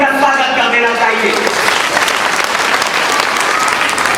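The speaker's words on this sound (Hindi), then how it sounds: "एक बार जोरदार तालियों से उनका स्वागत कर देना चाहिए" An audience at a community society conference bursts into loud, dense applause, with a voice speaking briefly over the start before the clapping fills in alone.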